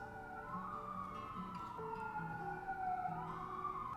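A distant siren wails up and down steadily, rising and falling over faint background noise.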